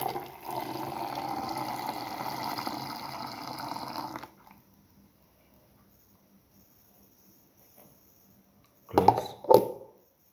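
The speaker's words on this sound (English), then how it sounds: "Pour in the milk." Milk pours steadily into a blender holding ground watermelon for a smoothie, a liquid rush lasting a few seconds, followed by quiet and a couple of sharp clunks.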